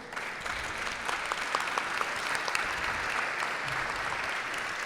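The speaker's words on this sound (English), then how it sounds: "Please give a round of applause to our platinum sponsor" Applause for a platinum sponsor at a gala awards dinner at the Embassy of Italy in Washington: a steady, fairly distant wash of many hands clapping that keeps going without a break, with faint crowd murmur underneath.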